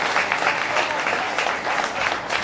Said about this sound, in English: a round of applause for Briggs as he makes his way over to the sidelines